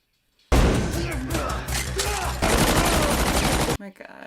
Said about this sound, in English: this guy's got a machine gun